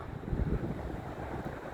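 Wind blows outdoors under a darkening sky as rain approaches, a steady low roar with gusty buffeting against the microphone and no voices.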